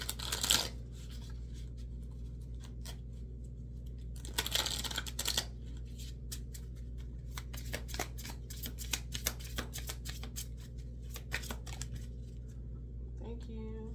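Tarot or oracle cards being shuffled, bursts of riffling flutter and soft card slaps under a steady low room hum, with brief speech from a woman between shuffles.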